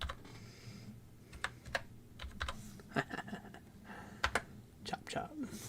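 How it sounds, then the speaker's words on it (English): Someone types on a computer keyboard during a live stream: irregular, close clicks and clacks of keys with short pauses between bursts, over a low murmur of background voice. "Let me type in chop."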